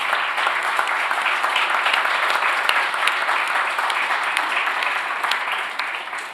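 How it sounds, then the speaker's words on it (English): An audience at a conference session on the Digital Europe Programme gives steady applause for the panelists, a dense continuous wash of many hands clapping at constant loudness, tapering slightly at the end. "I request an applause for the panelists, please."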